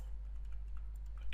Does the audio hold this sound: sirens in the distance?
no